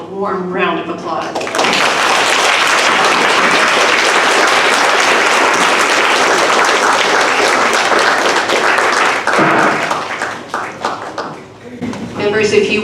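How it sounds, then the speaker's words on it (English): A school honor society induction ceremony audience gives a warm round of applause, loud sustained clapping for about eight seconds that fades out, with speech before and after. "And now a warm round of applause."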